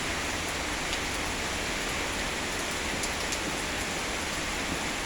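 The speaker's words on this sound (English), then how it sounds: "The Sound of Rain, 19 August 2023." Steady rain hisses evenly throughout in Janakpuri, West Delhi, before dawn, a dense continuous wash of falling water with no voices.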